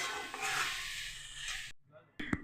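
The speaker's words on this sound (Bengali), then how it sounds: "শাক ভাজা হচ্ছে" Saag greens frying in a pan at home, with a steady hiss and sizzle under stirring scrapes, then a brief pause before a louder clatter of the spoon against the pan.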